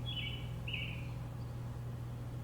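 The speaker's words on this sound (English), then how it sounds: "hearing the sound of birdsong" Two short, faint bird chirps sound early on, thin and distant over a low steady hum in a quiet room.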